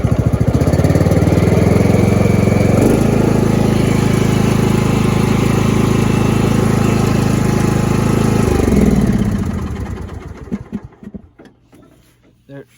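A Cub Cadet lawn mower engine runs steadily at its lowest throttle setting with a loud, close drone, briefly shifting pitch partway through, then winding down and dying away into near silence near the end.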